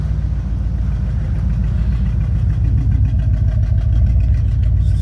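A 1995 Pontiac Firebird Formula with an LT1 V8 and T56 gearbox runs close and loud, a deep steady rumble with slight throttle swells building near the end.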